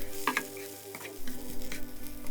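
Soft sizzling of onion frying over high heat in a pan, with faint stirring scrapes and light clinks, close and fairly quiet.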